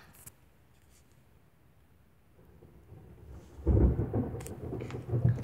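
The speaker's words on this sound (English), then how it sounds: "Sorry about that if you hear thunder in the background." Thunder rumbles in the background, quiet at first, then building into a loud, deep roll in the second half with light crackles, and no one speaking.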